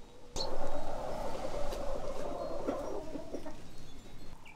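Several hens cluck and murmur softly at close range on a farm in central Portugal, a low continuous chatter with a few sharper calls, a mother hen among them with her chicks.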